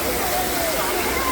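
The Pani Devi waterfall makes a steady, loud rushing roar of falling water, close and unbroken.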